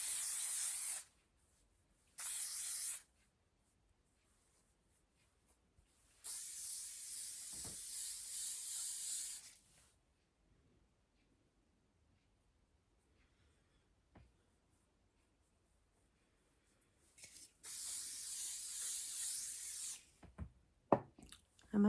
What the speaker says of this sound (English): Finish it with a bit of hairspray.